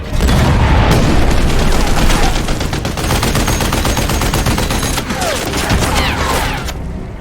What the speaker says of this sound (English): the tank begins firing at him